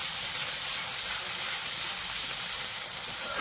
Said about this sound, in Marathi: टाकल्याच्या नंतर ही मिरचीची आणि लसूणची पेस्ट टाकायची याच्यामध्ये, करून घेऊया ते देखील तेलामध्ये असं मस्तपैकी